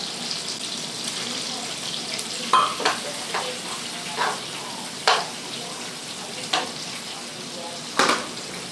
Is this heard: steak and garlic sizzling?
yes